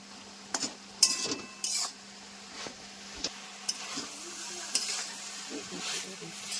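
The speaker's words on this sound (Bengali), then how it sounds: "তরকারিটাকে একটু ঘেটে দেওয়া হবে খুন্তি দিয়ে।" A bottle gourd greens stalk curry cooked with fish oil being stirred with a spatula in a pan, with intermittent metal scrapes and knocks over a low, steady sizzle and faint hum.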